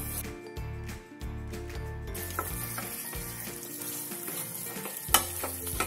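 Chicken frying in a pan for a dry-roasted chicken dish, stirred with a utensil in rhythmic scraping strokes over a steady close sizzle, with a sharp clink near the end.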